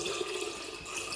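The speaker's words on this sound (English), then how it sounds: "I'm gonna add this water" Water pours steadily into a bottle for making mead, a continuous splashing, gurgling stream heard up close at moderate volume with no talking over it.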